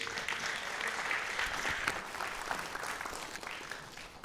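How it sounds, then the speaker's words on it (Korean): At a workshop opening ceremony in Bucheon, an audience claps steadily to welcome a guest. The applause is moderately quiet, even and continuous, with a few sharper individual claps standing out throughout. "큰 박수로 환영해 주십시오."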